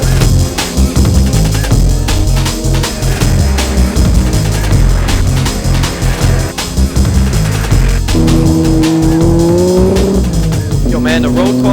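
Powerful Toyota Supra and other race cars on a road course track, engines roaring loudly and continuously with tire noise and gear changes, close and dense throughout.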